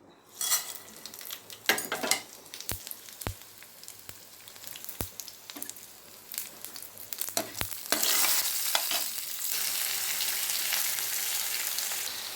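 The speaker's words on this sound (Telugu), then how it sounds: "ఇదిగో పోపొచ్చి ఆవాలు జీలకర్ర మినపప్పు శనగపప్పు ఓ మూడు ఎండుమిర్చి" Mustard seeds, cumin, urad dal, chana dal and three dried red chilies fry in hot oil for a tempering, giving a steady sizzle that swells into a loud hiss, with sharp clicks of seeds popping and a spoon scraping the pan.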